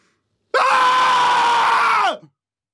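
A person screams at full force into a microphone, one sustained loud raw cry of about a second and a half that cuts off sharply into brief silence.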